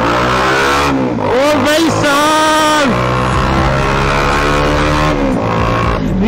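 Bajaj Pulsar 220 motorcycle exhaust, loud and close, revving up and down repeatedly with rising and falling engine pitch, while a man exclaims briefly over it.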